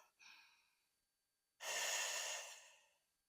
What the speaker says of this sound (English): And just breathe really big.